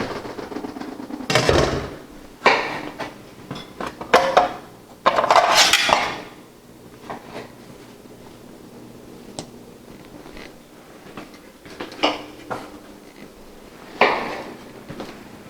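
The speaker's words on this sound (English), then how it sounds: "we're going to take this thing apart now and get it cleaned up" Metal parts of a Fabio Leonardi tomato milling machine are taken apart, producing scattered loud clanks, clinks and rattles of pieces knocked and set down, with quieter handling noise between the bursts.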